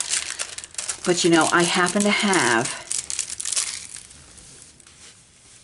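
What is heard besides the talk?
cellophane wrapping crinkling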